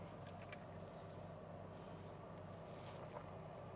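A 1.0-litre, 1000 cc three-cylinder car engine idles at 1000 RPM, heard from inside the cabin as a steady, low, even drone with no talking.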